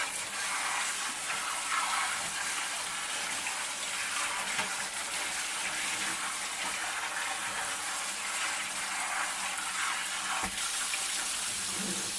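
Tap water runs steadily into a sink, rinsing chopped vegetables for relish in a kitchen, a continuous splashing rush with a brief clatter near the end.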